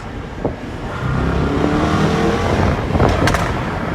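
A car engine rumbles and revs close by, with popping, crackling exhaust burbles breaking through near the end.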